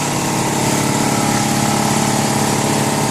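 A small engine runs steadily after a pull on the recoil starter, a loud, continuous buzzing drone with no pauses from start to finish.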